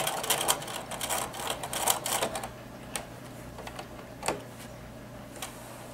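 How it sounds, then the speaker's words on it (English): A sewing machine attaches a button with a button stitch, making a quick burst of rapid mechanical stitching up close, followed by a few isolated clicks over a low steady hum. "now I can just use my machine to attach the button"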